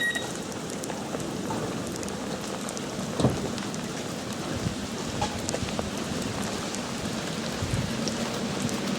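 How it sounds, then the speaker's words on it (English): Heavy rain pours down steadily at a South London railway station in a dense, hissing wash, with a single brief thud partway through. "it's raining heavier and heavier"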